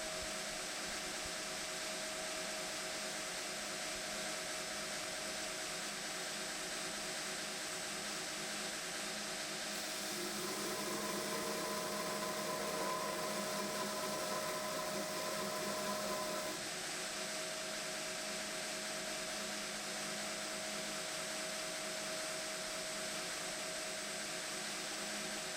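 A knife tang ground to a taper on a grinder gives a steady, continuous whirring hiss, with a louder, harsher stretch of grinding in the middle before it settles back to the same even drone. No one speaks.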